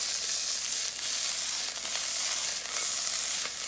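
Beef patty, eggs and potatoes frying in a pan, with tomatoes and onions added, give off a loud, steady sizzle just after being flipped, with faint crackles and soft stirring scrapes and no talk.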